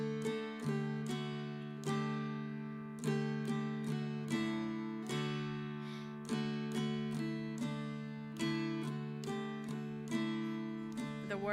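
Mountain dulcimer strummed in a short syncopated phrase, clear and close, with bright plucked attacks over a steady drone, played alone at a moderate level at a dulcimer homecoming gathering.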